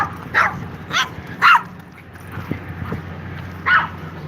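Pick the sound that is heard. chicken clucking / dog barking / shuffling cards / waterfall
dog barking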